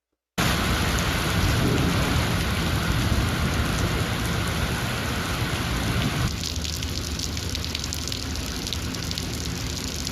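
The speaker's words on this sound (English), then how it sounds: "You're going to hear some rain, and this is maybe what you all experienced as well." Heavy overnight rain in Arizona pours down hard and steadily, a loud, dense hiss of falling water that continues unbroken without any voices.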